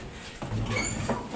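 An elevator door slides shut with a soft, brief rumble and a light clunk at the end, heard quietly in a building while a truck driver is making deliveries in England.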